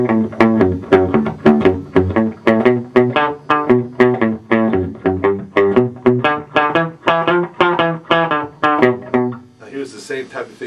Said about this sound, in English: Here's the sound of an old rock and roll type lick without the pedal.